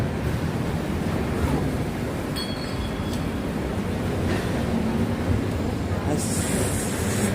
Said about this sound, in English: That's the L train, Bedford Avenue.